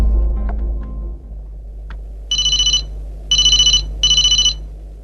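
A telephone rings in three short electronic bursts spaced about a second apart, loud and close, after a few faint knocks and clicks in a quiet room with a low hum.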